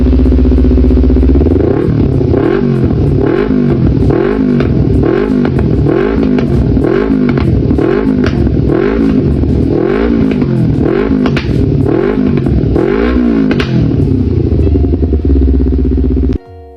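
Kawasaki Z250 naked 250cc motorcycle engine revving repeatedly in a steady rhythm of rising and falling blips, loud and close, with no talking, ending abruptly.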